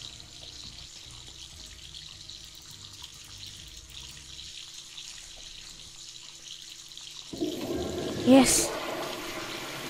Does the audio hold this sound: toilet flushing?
yes